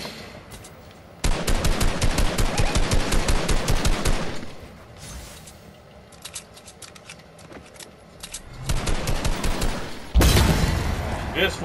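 Rapid bursts of automatic gunfire from the video game Fortnite come in two long volleys of closely spaced shots with quieter scattered shots between them. A loud final burst closes the sequence.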